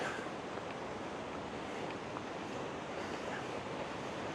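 Steady rushing water fills the whole stretch, a continuous broadband roar with no breaks, heard from a moderate distance.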